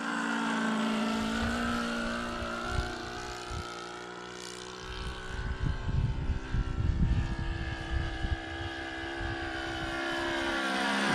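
A 28-year-old scale RC Piper J-3 Cub model airplane makes a downwind pass, its small engine buzzing steadily with a rising and falling pitch as it passes at moderate distance, loud and continuous with no speech.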